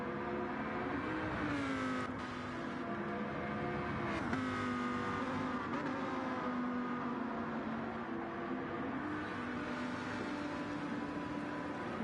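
A race car engine in a racing video game at Goodwood revs hard with a steady, buzzing whine that rises and falls through gear changes, alone and fairly close.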